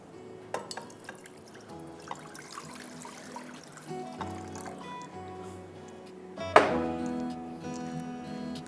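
Two cups of water poured into a cooking pot with beef for biryani, a brief splashing, trickling pour that rises sharply near the end, close and moderately loud, with soft kitchen clatter before it and no talking.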